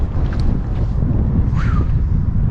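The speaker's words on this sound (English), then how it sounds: "This is like exactly where the wind is coming from" Strong wind gusts batter the microphone on an exposed hilltop, a continuous loud rumbling roar with no talking.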